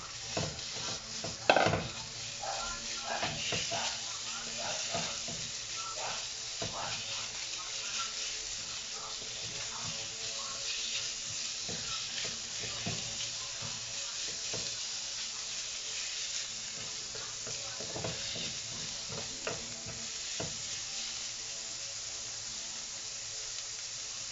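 Pork pieces frying in a pan for a dynamite snack, a steady close sizzle with scattered stirring clatter and a sharp utensil knock near the start.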